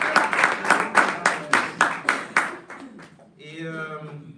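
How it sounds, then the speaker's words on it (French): A church congregation claps in a loose rhythmic burst of about a dozen beats, fading out after a few seconds; a voice begins speaking as the clapping dies away. "Je pense qu'on doit encore l'applaudir, frère et sœur."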